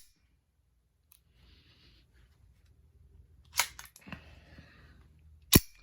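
A Browning Buck Mark .22 LR pistol being handled, with a few sharp mechanical clicks from its safety lever, close and isolated against a quiet room, the final click loudest.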